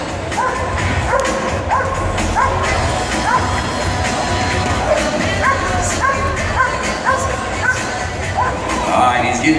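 At a dock jumping high jump contest, a dog barks repeatedly and whines with excitement before release, over crowd noise and an announcer talking.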